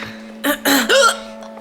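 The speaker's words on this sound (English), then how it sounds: "I got the hiccups like no other." A few quick hiccups, three short abrupt bursts close together at close range, heard during an apartment cleaning session over a steady low background hum.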